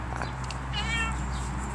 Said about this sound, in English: This is my neighbor's cat, Hortense.